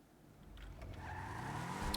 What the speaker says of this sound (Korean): 이렇게 휠스핀도 있고 심해요 휠스핀이 그냥 자동으로 드리프트를 하더라고요